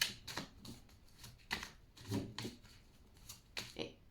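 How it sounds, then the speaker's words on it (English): A deck of cards being shuffled in a series of quick riffling bursts at moderate volume, close by, each burst separated by short pauses. "I didn't shuffle group 1's card back into the deck, but I did yours"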